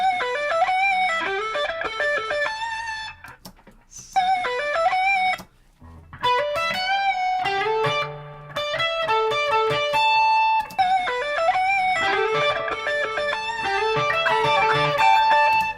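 Electric guitar plays a fast melodic solo phrase from a song with bends and hammer-ons, close and clear, with a few brief pauses between runs.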